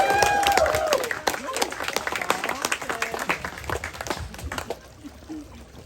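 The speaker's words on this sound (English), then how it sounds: "will you join me now in a huge cheer for Rebecca and Joseph?" Wedding guests cheer and applaud for the bride and groom, a loud burst of clapping and whoops at the start that gradually thins and fades across the room.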